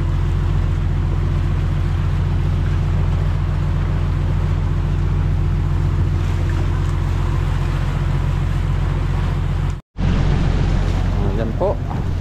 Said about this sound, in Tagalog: Ikutin natin ang bangka habang na-testing tayo.